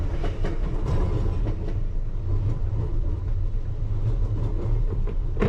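London Underground Piccadilly Line train running eastbound toward Oakwood depot at night, a loud continuous low rumble with rhythmic clickety-clack of wheels over rail joints and occasional higher squeals, steady throughout with no talking.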